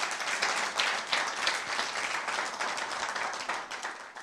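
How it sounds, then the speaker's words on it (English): An audience at a talk show taping claps steadily for a few seconds, a dense, even patter of many hands at moderate distance. "Please clap for yourselves one more time"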